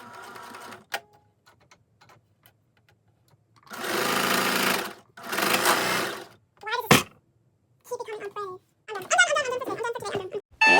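A sewing machine stitching ruffles for a heart pillow runs in loud, close bursts of a few seconds each, separated by quiet pauses and short handling noises.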